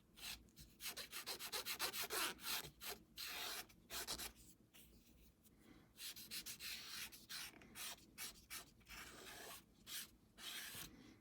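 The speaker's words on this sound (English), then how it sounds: "just kind of keep scrubbing at that to kind of get it to fit in with the back piece here" Close, steady scrubbing of a plastic model kit part, a USS Reliant starship model, being sanded to fit, heard as repeated rhythmic rasping strokes in bursts with brief pauses.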